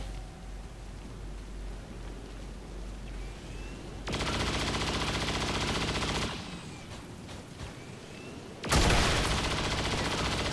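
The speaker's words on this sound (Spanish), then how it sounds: "Disparo en cadena, fuego." Gunfire from the Chain Shot ability in XCOM 2 comes as two loud, dense bursts of rapid shots, the first lasting about two seconds and the second cutting in near the end, over a low background hum.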